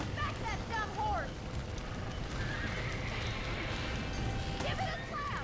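Horses whinny and neigh in a Red Dead Redemption rescue scene, sharp cries at the start and end over steady clip-clop hooves and game ambience, with voices talking throughout.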